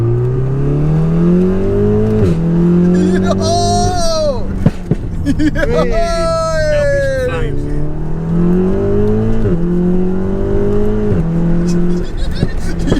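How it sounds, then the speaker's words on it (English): A VW Golf R in race mode, carrying three adult men, accelerates hard: the engine climbs through several gears, with rising revs broken by quick shift dips, while the occupants talk and react. "I've just seen Cam's whacked it into race mode."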